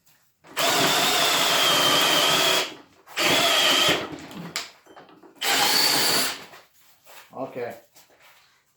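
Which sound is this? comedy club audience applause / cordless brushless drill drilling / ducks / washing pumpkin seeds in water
cordless brushless drill drilling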